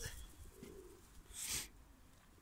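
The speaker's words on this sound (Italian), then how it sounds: "piccioni che se ne vanno in giro" Pigeons cooing outdoors: a few soft, low burbling coos up close, with a brief rush of fluttering or wind noise midway and no talking.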